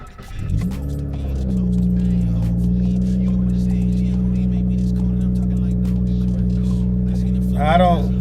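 A 2020 car fitted with a new Group N transmission mount and Whiteline positive shift kit cranks briefly and fires up, then settles into a steady, loud idle with a deep engine drone.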